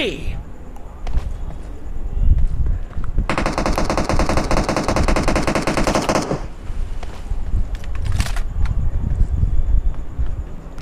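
Sustained rapid automatic gunfire rattles for about three seconds in a battle royale duo match, surrounded by scattered single shots, footsteps and other game noises, with someone talking over it.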